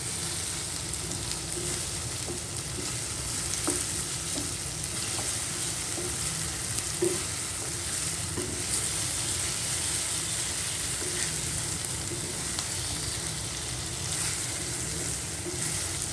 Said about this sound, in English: Now I'm going to add in the brinjals. And stir fry everything inside.